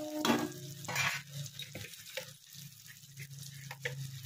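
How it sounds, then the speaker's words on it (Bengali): Onion, papaya and potato fry in a pan with a faint, soft sizzle, broken by a few scraping stirs and clatters near the start and scattered light knocks. "পেঁয়াজটা সবজিগুলো সব ভাজা গেছে, পেঁপে আলু ভাজা হয়ে গেছে লাল লাল করে।"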